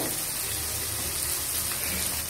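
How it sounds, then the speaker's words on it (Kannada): Chopped onions frying in a pan for uppittu give off a steady, even sizzle that hisses on without pause, fairly quiet and alone with no voices. "ಇವಾಗ ಈರುಳ್ಳಿ ಎಲ್ಲ ಫ್ರೈ ಆಗಿ ಕಂದು ಬಣ್ಣಕ್ಕೆ ತಿರುಗಬೇಕು"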